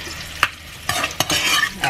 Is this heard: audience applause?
no